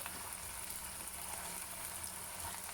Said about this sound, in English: You can wet your hands and then start adding the sago pearls in the wok.